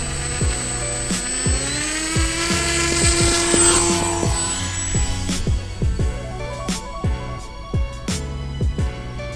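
A small FPV flying wing model aircraft buzzes overhead, its propeller whine rising and shifting in pitch as it passes, loud and near with sharp clicks and gusts of wind noise.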